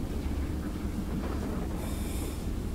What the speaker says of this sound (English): Is that just a train making noise?